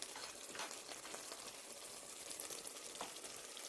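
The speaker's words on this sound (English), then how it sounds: "And turn that down, let that simmer." Sauce simmering in a pan for Swedish meatballs, a soft steady bubbling and light sizzle with faint crackles throughout, close and quiet, no talking.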